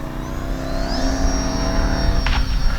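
An FMS PA-18 Super Cub RC plane with pneumatic tires takes off, its small engine giving a steady buzzing whine that rises in pitch as it throttles up, fairly close and alone.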